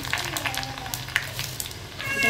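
Whole garlic and mustard seeds sizzle in hot oil in a pan, a soft crackling fry with scattered pops close by, rising slightly louder at the end, no talking.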